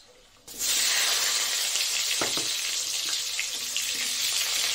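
A loud, steady sizzle bursts in after a quiet start and continues throughout, with occasional stirring scrapes, as onion and nigella seeds fry in hot mustard oil.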